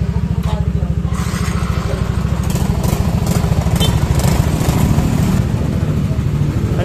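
A Yamaha Mio i 125 scooter with a check-engine fault and error code 46 runs with a loud, close, steady rhythmic engine chug throughout.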